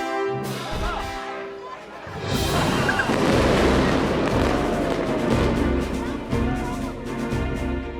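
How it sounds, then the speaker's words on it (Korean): A demolition blast goes off with a heavy deep boom, followed by a sustained loud rumble and crackling debris noise lasting several seconds, with crowd voices mixed in. "발파!"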